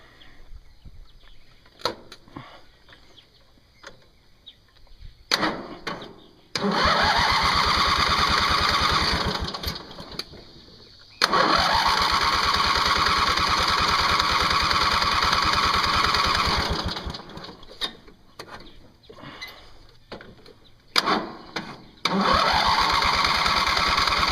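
Tractor engine cranking and struggling to start, sputtering in several loud bursts that catch briefly, run rough for a few seconds, then die and get cranked again.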